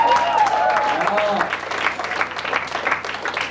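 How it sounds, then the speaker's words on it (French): Audience applause fills a college student-association gala in 2002, dense clapping carrying through the whole stretch with voices and cheers mixed in, slightly louder at first and then steady. "c'est là que vous intervenez et que vous applaudissez"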